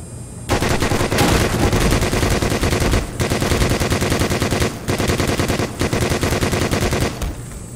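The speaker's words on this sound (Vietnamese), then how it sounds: "Có quả súng tự động à?" Sustained automatic-weapon fire in the Half-Life remake Black Mesa, loud and rapid, in several long bursts split by short pauses.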